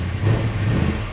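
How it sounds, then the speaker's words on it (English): 1973 XA GT Falcon coupe engine rumbling and revving briefly, a low steady growl close by with no talking. "Let's take this thing for a drive."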